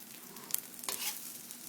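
Spinach pancake frying in oil in a pan, a soft, steady sizzle with faint bubbling crackles, quiet and close, no voices.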